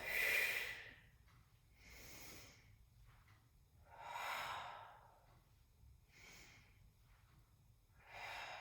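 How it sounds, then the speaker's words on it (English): Slow, deep breaths during a Pilates exercise, a long exhale and then alternating in- and out-breaths, each a soft airy rush close to the microphone, with quiet gaps between them and no talking. "take a deep breath in, and out breath, reach, and in breath, and out breath"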